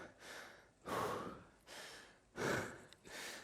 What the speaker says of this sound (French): Allez, soufflez bien.